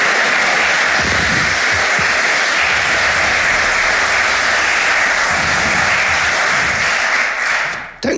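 Applause sound effect plays during a Civilization VII multiplayer livestream, a loud, steady burst of crowd clapping lasting about eight seconds before cutting off abruptly.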